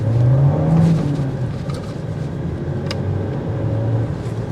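A 2023 Volkswagen Jetta Sport accelerating on a road, its engine rising in a steady, loud hum with low rumble and tire noise, heard from inside the car.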